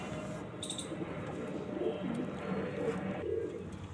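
Madrasi pigeons coo softly and repeatedly in a low, throaty murmur, with a faint chirp early on and a little background noise.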